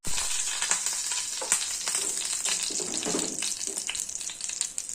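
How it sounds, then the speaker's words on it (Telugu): Green chilies fry in a pan of tempering oil for a capsicum curry, giving a steady, close hiss and crackle throughout, broken by occasional louder spits and a few stirring clinks. "పచ్చిమిరపకాయలు వేయించుకోవాలి"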